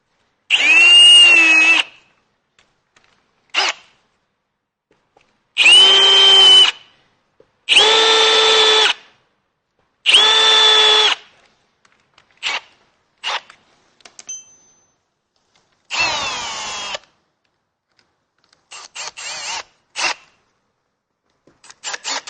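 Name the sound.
drill countersinking holes for boat Power-Pole install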